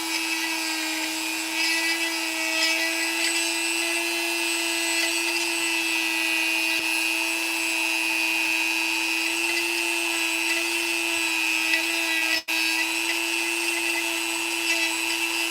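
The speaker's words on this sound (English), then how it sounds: "Let me Dremel out a little more of the head here" Dremel rotary tool grinding into a toy's plastic head, a steady high-pitched whine that holds continuously at close range, with a brief dropout near the end.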